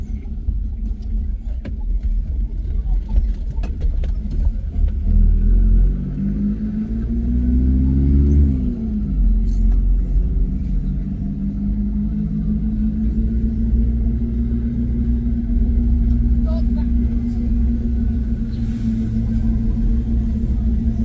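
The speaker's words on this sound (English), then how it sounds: "This is taxi stand or bus station." Traffic at a taxi stand or bus station in Kayanza city: a loud, continuous rumble of idling and slowly moving vehicles nearby, with engines rising and falling throughout.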